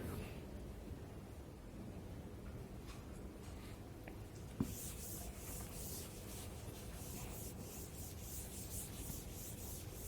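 Chalk being rubbed off a blackboard in a mathematics lecture room, a quiet, continuous scrubbing that turns into rhythmic brisk wiping strokes after a small knock midway.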